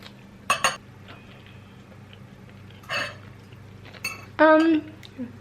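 A fork clinks against a plate a few times while someone eats a home-cooked vegan meal. The clinks are brief and bright, separated by quiet pauses, with one longer ringing tap near the end and brief vocal sounds in between.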